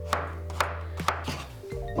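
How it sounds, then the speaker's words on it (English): A knife cuts through zucchini on a cutting board with four sharp, evenly spaced chops, close and fairly loud over a steady low hum. "So just gonna cube the zucchini"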